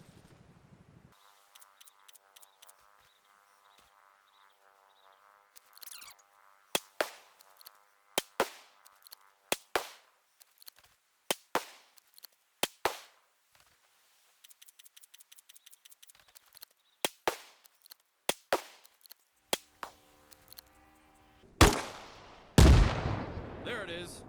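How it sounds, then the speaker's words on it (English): Grenade launcher firing 40mm rounds in the video game Arma Reforger, with repeated sharp loud reports spaced across the clip amid clicks of loading and a heavy boom near the end. "you can shoot grenades much farther than you can throw them"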